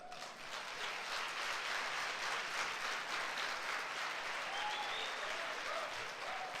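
A church congregation at a Sunday service applauds continuously, a steady dense patter of many hands at moderate volume, with a few faint voices or cheers rising over the clapping.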